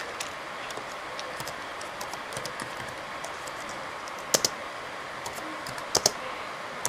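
Typing on a computer keyboard: soft, irregular key clicks, mostly light with a few sharper taps, over a steady faint hiss.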